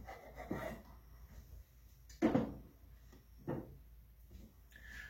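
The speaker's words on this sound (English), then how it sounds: "I'm going to trim this Spam down to fit." A knife cuts through a block of Spam to trim it to size, making a few soft, muffled scraping and rubbing strokes close by, quiet, with gaps between cuts.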